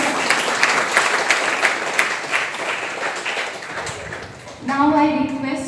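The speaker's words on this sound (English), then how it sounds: "I request the audience to please give a big round of applause." Seminar audience applauding at a two-day national seminar, dense sustained clapping that fills the hall for several seconds before fading, followed by a voice speaking over the room.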